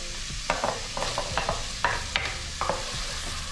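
Chopped onion frying in a pan with minced ginger for a curry, a constant sizzle under repeated scraping stirs of a spoon, close and moderately loud.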